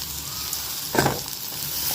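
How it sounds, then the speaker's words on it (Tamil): Chopped onions and green chillies sizzle steadily in hot oil in a pan, a continuous bright frying hiss with a brief stir around the middle. "இந்த பச்சை மிளகாய் சேர்த்து நல்லா வதக்கிக்கலாம்."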